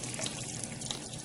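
A sink tap in the video game Deponia runs with a steady, hissing gush of water, continuous and fairly close throughout.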